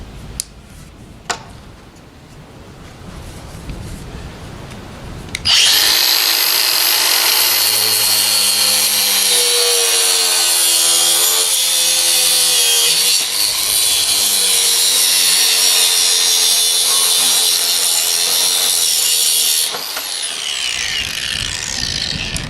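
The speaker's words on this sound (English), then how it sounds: "I'm going to cut the hose just using an angle grinder with a cutting disc." An angle grinder with a cutting disc cuts through a hydraulic hose, a loud, close, sustained high whine with a rough grinding edge that runs for about fourteen seconds and then cuts off, with quieter handling noise before it.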